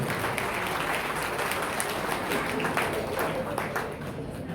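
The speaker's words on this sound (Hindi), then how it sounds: "तालियों से अभिनंदन कीजिए।" Audience at a Hindi poetry gathering (kavi sammelan) in Haryana applauding, a dense continuous wash of clapping that tapers off near the end.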